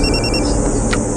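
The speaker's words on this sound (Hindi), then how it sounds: "लेकिन अचानक तब हमारे क्लाइंट का मुझे कॉल आया।" A telephone ringing with an incoming call: a loud, steady electronic warble pulsing briefly in short repeated tones over a dense background hum, then cutting off.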